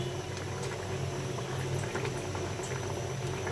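Fish and potato curry bubbles in a pot, a soft continuous boiling simmer with faint popping, steady and fairly quiet throughout.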